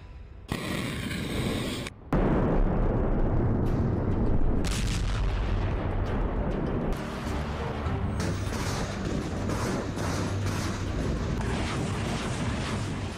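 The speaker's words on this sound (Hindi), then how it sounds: "फिर हुआ एक बड़ा धमाका।" A sudden loud missile blast booms up close, followed by a long rumbling roar that slowly settles into a sustained noisy wash.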